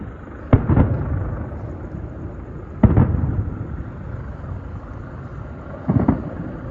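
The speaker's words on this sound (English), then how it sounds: "Leftover Christmas fireworks, those green and red ones, I presume." Leftover Christmas fireworks, green and red, go off at a distance near an East Perth train platform, with three separate booming bursts a few seconds apart over steady outdoor rumble.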